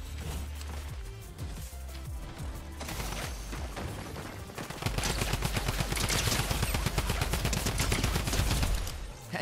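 A Mythic drum gun in Fortnite fires long sustained bursts, with rapid rounds blurring into a continuous loud rattle that grows heavier and denser toward the end, with no voices.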